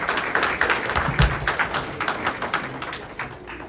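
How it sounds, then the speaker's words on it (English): Clapping from a church audience at a Sunday afternoon Thanksgiving service, sharp close claps mixed with a broader wash of hands, fairly loud and continuous, with a faint steady high tone behind. "Let's give Matthew a round of applause"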